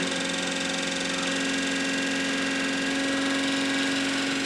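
An electric motor runs steadily at reduced speed on a university lab test bench, giving a constant, loud, even hum with a strong fixed tone and no voices.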